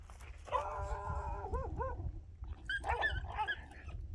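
Several dogs bark and yip at another dog out in a field on a rural property, a short burst of mid-distance barks and whines, fairly faint against outdoor background noise.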